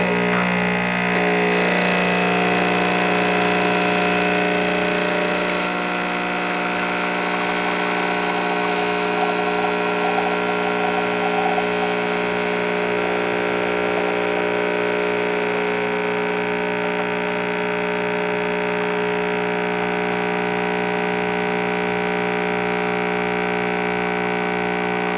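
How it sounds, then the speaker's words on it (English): A Senseo coffee machine brews a single cup with a steady, loud mechanical hum and pump drone, a busier onset in the first few seconds then a continuous even whir throughout, with no talking. "listen to how loud it is to make a cup of coffee with this machine"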